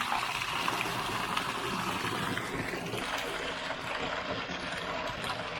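Water gushes in a strong, steady rush as a water tank is filled, loud and close, continuing without pause until it cuts off abruptly at the end.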